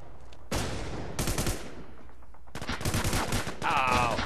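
Rifle gunfire in the online shooter War Inc Battlezone, several short rapid bursts of automatic fire with pauses between, loud and close, ending with distant shots.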